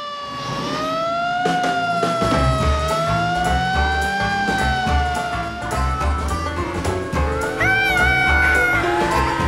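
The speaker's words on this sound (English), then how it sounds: "You want to get the siren, George?" A Curious George cartoon fire engine siren wails up and down loudly over bouncy music, with a brief meow-like squeal near the end.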